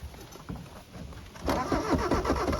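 The engine of an old Mitsubishi-made Dodge Ram 50 that has sat abandoned for over a decade cranks briefly and then catches. It rumbles into a rough idle, loud and close.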